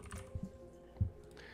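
A few soft computer keyboard keystrokes as a section name is typed, sparse taps spaced unevenly, faint and close in a quiet room.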